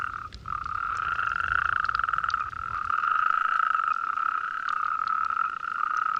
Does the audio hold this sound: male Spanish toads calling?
yes